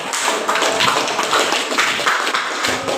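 Audience applause at a school talk on recycling non-organic waste, a dense continuous patter of clapping lasting about three seconds, steady and fairly loud with no voices over it.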